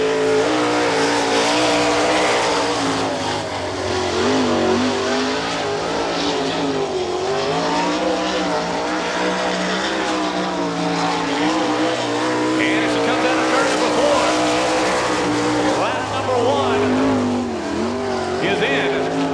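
Sprint race cars with engines of about 360 cubic inches roar around a dirt oval at an All Star Circuit of Champions race in Eagle, Nebraska. The loud engine drone stays steady and rises and falls with the cars, with a voice speaking over it.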